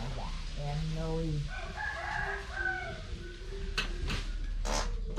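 Home-raised chickens: a rooster crows a full, loud call nearby while hens cluck and chatter around it, with a few sharp knocks and thumps near the end over faint background noise.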